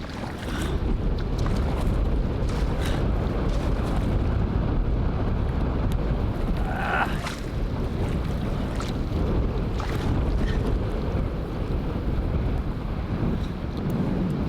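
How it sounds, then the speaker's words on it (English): Strong, steady wind roars across a remote Canadian lakeside canoe campsite, buffeting the microphone with a constant broadband rush and waves lapping beneath, continuous and loud for the whole stretch with no talk. "I'm gonna have to hunker down here for a little bit, wait this wind out."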